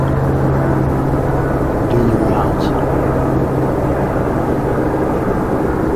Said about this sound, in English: It's a police helicopter.